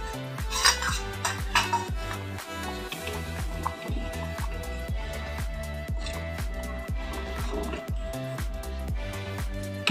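A pot of dal being covered with a lid while cooking, with repeated clinks and knocks of metal pots and utensils ringing over a steady kitchen background throughout.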